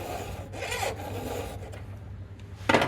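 A square file rasps across a saw chain in repeated strokes, close and steady, with short pauses between passes and a louder final stroke.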